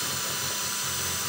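An electric drill grinds steadily against sapphire scratch-resistant watch glass, a close, continuous high-pitched whir with no talking.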